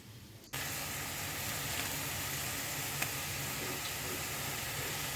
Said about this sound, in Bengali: আর ওদিকে আলুগুলো ভাজা মোটামুটি হয়ে গেছে